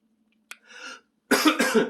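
Two short coughs in a quiet room: a sharp single one, then a louder, rougher burst of coughing a moment later.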